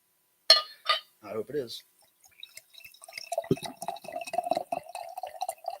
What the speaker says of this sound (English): I have to pour some more wine